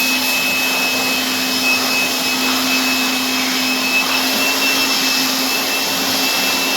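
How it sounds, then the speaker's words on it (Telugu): An air blower runs close by, drying wet old bathroom tiles with a loud, steady whooshing roar over a constant motor hum. The level stays even with no speech. "మీ దగ్గర బ్లోయర్ ఉంటే బ్లోయర్తో డ్రై చేసుకోవచ్చు"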